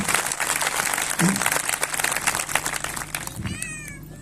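A congregation at a Christian fellowship convention in Umarpata, 2023, breaks into loud, sustained applause. The dense wash of clapping fades slightly toward the end, where a brief voice rises.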